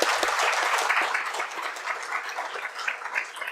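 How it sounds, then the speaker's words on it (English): An audience at a university lecture welcomes the chief guest, NITI Aayog Vice Chairman Suman Beri, with sustained, dense applause that holds fairly steady and eases slightly in the middle. "please join me in welcoming again our chief guest, Sri Suman Beri, with a huge round of applause"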